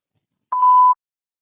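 A single short electronic beep from an automated IVR phone line, a clean tone of about half a second alone in silence.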